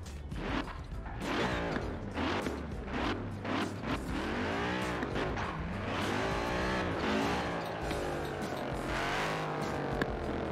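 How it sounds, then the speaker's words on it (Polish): In the racing game Forza Horizon 4, an Audi RS6 engine revs loud and close, rising and falling through gear changes with tire squeal and skidding mixed in, heard alone without talk. "Ale Audi RS6 brzmiało super."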